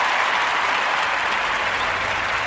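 Continuous crowd clapping, a dense even wash of many hands that stays loud and steady for a couple of seconds with no voices on top.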